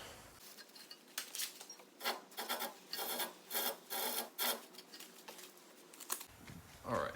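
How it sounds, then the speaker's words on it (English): A cloth wipes grease off a brake rotor on a Mitsubishi Mighty Max during front wheel bearing work, giving a run of close, rhythmic rubbing strokes of uneven loudness, with no talk. "let me wipe this rotor off first as well. I don't want to contaminate my brake pads with grease."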